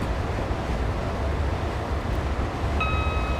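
Class 320 electric train running on the Glasgow Central to Lanark line in Train Simulator 2015, a steady broadband rumble and rush of wheels and air at speed, with a brief high whine near the end.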